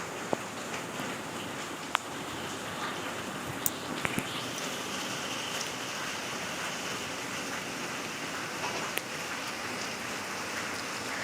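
Steady rain falls in a soft, constant hiss, with occasional sharper drips and taps standing out.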